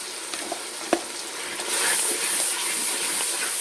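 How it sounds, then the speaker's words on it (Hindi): Tomato and turmeric masala frying in a pan for dhaba-style dal chana fry, a steady sizzle with a few stirring knocks early on, swelling into a louder, continuous hiss midway. "और मसाले को अच्छे तरीके से भून लेना है हमने, ताकि ये टमाटर भी सॉफ्ट हो जाए और हमारा मसाला अच्छा सा फ्राई हो जाए।"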